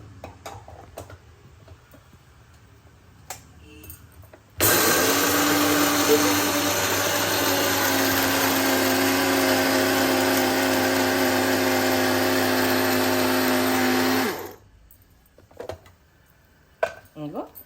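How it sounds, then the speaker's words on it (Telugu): A blender coarsely grinds roasted gram dal (putnala pappu) into powder, a loud steady whirring roar that starts abruptly and runs for about ten seconds before cutting off, with quiet kitchen sounds and a voice before and after. "కొంచెం కోర్స్గా బ్లెండ్ చేసుకుందాం మన పుట్నాల పప్పుని పౌడర్ చేసేసుకుంటున్నానండి"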